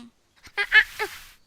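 Swans calling in a short burst of three or four honking, nasal calls close together, fairly loud against a quiet background, with no other sound.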